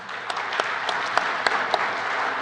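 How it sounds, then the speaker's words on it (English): Applause for conference panelists rings out in a room, a steady patter of hands with a few sharp, distinct claps standing out close by across the short stretch. "I want to give a good hand of applause here for our panelists."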